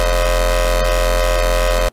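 Serum synth bass patch with LFO-modulated FM: a loud, sustained, buzzy tone with dense harmonics that pulses subtly and then cuts off abruptly at the end.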